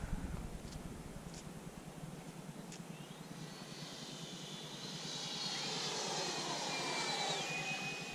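A Freewing F-22 Raptor RC model jet makes a slow pass over a flying field, its ducted-fan whoosh faint and steady at first, then swelling as it draws nearer, with no talk.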